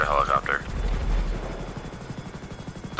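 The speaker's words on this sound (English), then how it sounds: "I heard a helicopter." Helicopter rotor chop in GTA Online combat, a steady low throbbing pulse of blades under excited voices talking over it.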